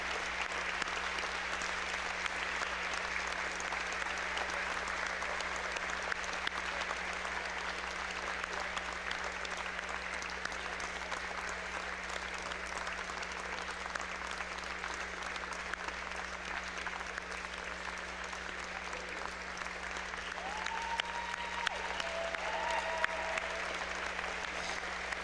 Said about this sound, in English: let's have a round of applause for this courageous group of women, breast cancer survivors here in the Wabash Valley